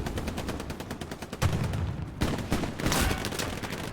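Rapid automatic gunfire in the WW2 shooter Hell Let Loose, a fast string of close, loud shots broken by a brief pause before more bursts resume.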